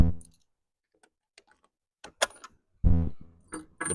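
Bolts, large washers and nuts being handled and fastened while fitting a screen porch onto a cargo trailer ramp: scattered close metallic clicks and clinks with brief jangling bursts between quiet gaps.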